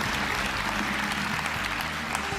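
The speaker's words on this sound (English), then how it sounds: "You may applaud at will." Steady applause from a studio audience at a magic competition show, dense and continuous clapping with no talk on top.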